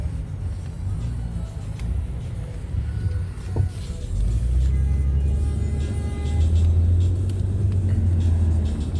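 Steady low rumble of car engines in traffic, with a vehicle revving and growing louder midway, no voices.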